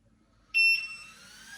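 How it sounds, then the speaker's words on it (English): An electronic buzzer sounds a single short, bright beep that rings on briefly as it fades, alone in a quiet room. "Anytime the buzzer beeps, this is gonna light up."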